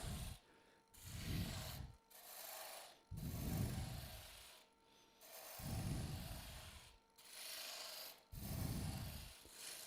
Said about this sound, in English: This is just a Robert Sorby roughing gouge. Yeah, spindle roughing gouge.